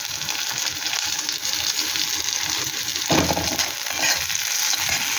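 Chopped green chillies fry with dried fish in a hot pan, a dense continuous sizzle with a sharp stirring scrape midway, close and alone.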